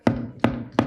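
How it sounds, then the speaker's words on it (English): Three sharp wooden knocks of a gavel striking at a live show before an audience, evenly spaced, close and crisp with short ringing decay. "This is the sound of a gavel."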